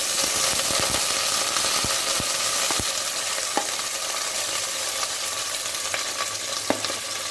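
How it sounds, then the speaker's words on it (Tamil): Two long-sliced onions fry with whole spices in a pressure cooker, giving a loud, continuous sizzle with scattered clicks and pops. The sound is close, and no voices are heard. "இப்போது நீலவாக்கில் கட் பண்ணி வச்சுருந்த 2 ஆனியன் சேர்க்குறேன்"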